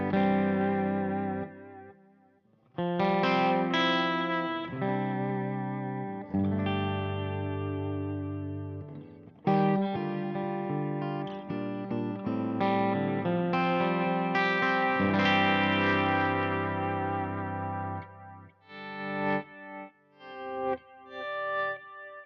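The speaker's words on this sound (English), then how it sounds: "It's a longer delay with modulation." Electric guitar chords and notes washed in a long, modulated delay, repeats warbling, trailing and swirling behind each phrase, sustained and ambient with no talking.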